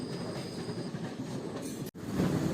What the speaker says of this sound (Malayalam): കണ്ണൂർ എക്സിക്യൂട്ടീവ് എക്സ്പ്രസ് ഇത് എറണാകുളം ടൗൺ റെയിൽവേ സ്റ്റേഷനിൽ എത്തിക്കൊണ്ടിരിക്കുക